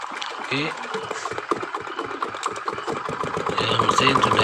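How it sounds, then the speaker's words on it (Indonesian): A Dongfeng diesel engine idles with a rapid, steady knocking chug, close and fairly loud throughout, briefly overlapped by faint background noise. "ya, mesin sudah hidup."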